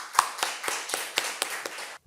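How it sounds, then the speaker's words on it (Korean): A church congregation gives a short round of clapping to welcome the pastor, with about ten sharp, evenly spaced claps over two seconds at moderate loudness, with no voices. "박수로 목사님 모시겠습니다"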